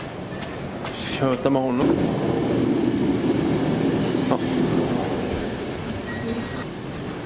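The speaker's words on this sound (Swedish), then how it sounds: "Nu är jag på sista tåget här i alla fall." A train rumbles steadily along the rails with a rattling, rolling drone, while a person speaks briefly over the noise.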